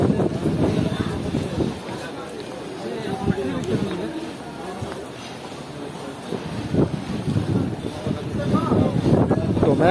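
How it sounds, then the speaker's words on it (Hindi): Strong gusting wind and a dust storm sweep across a Pakistan Railways station, a continuous rough rumble buffeting the microphone while someone talks over it. "इस वक्त स्टेशन पर शदीद आंधी आ चुकी है, यानी कि तेज़ हवाएं चल रही हैं"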